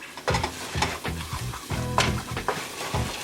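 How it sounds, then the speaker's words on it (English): Butter and flour roux for queso sizzling in a pan while being stirred, with repeated scraping strokes about every half second over a steady close frying hiss. "Gonna make a little roux with that butter."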